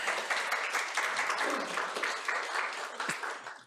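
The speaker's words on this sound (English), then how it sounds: "I'm waiting for a round of applause because I'm so proud" Steady audience applause fills a conference hall at a spring event, dense and continuous without letup, with no voices standing out above the clapping.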